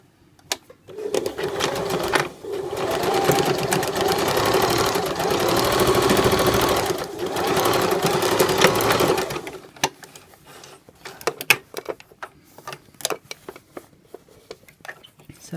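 A sewing machine stitches a waistband onto a garment, running in a loud, continuous whirring burst for several seconds with one brief pause, then falling to scattered light clicks and handling noises.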